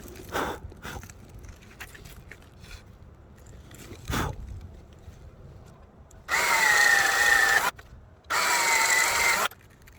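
Two bursts of a power drill whirring at steady pitch, each lasting over a second, preceded by a few scattered knocks and handling noises.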